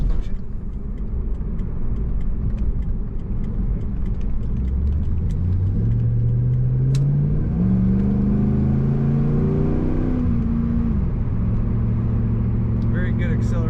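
A 1999 Pontiac Firebird Trans Am 30th Anniversary pulls hard under acceleration, its engine note climbing steadily through several gear pulls with a strong, close, loud rumble over road noise.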